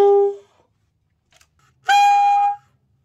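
A saxophone sounds a high E fingered with only the palm F key, played as two short, clear sustained tones separated by a brief silence.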